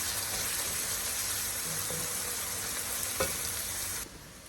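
Beetroot, potato and onion fry in a pan with a constant loud hiss, with a faint knock partway through before the sizzle drops away near the end.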